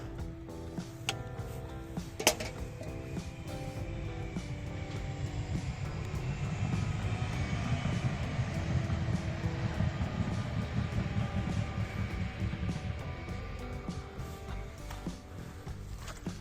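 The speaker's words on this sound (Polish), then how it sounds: "Jedzie pociąg." A rumbling train rolls past for a long stretch, with a low steady roar and a few sharp clanks and ticks near the start.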